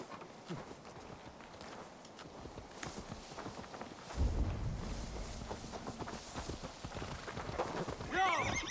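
A horse whinnies and its hooves clip-clop in Assassin's Creed Valhalla gameplay, heard over a low windy outdoor ambience, with the galloping swelling louder midway and continuing to the end.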